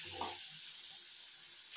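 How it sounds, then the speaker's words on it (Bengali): Meat fries in hot oil with a spice mix of chili powder, salt and turmeric, giving a steady, close sizzle with a brief stirring scrape near the start. "ওই তেলেই আমি মাংসটা চাপিয়ে দিচ্ছি"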